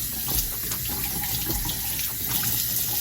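Tap water runs steadily into a bathroom sink during handwashing, a continuous close splashing stream with no talk over it.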